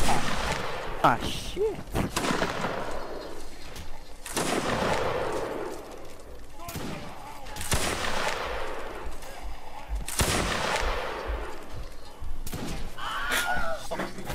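Musket volleys crack and boom repeatedly in a Mount and Blade line battle, several loud gunfire bursts at regular intervals with smoky reverberating tails, while players talk over voice chat.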